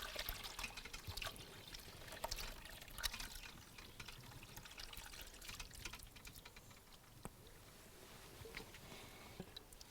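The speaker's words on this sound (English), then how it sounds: "I am going to strain it off straight into the pan." Kombu vegetable broth pours and trickles through a strainer into a pan, a soft, steady stream of liquid with light splashes, faint and continuous throughout.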